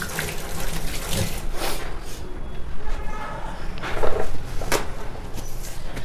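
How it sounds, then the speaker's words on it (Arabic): Hands washed under a running tap, a close, fluctuating gush and splash of water with intermittent knocks and rubbing, a louder surge near the end. "اغسل بس ايدي."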